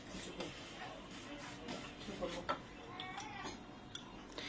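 A spoon scrapes and clinks against a pan while stirring pistachio sauce for kunafa, giving soft irregular taps and scrapes at close range, quiet and without talk.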